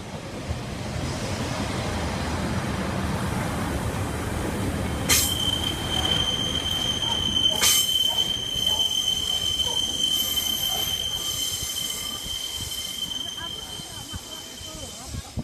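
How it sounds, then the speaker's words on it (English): A Pacer diesel train runs past the Lincoln Central level crossing with a loud sustained rumble and sharp, high wheel squeals that ring on for several seconds, heard close by. "Here's a pacer."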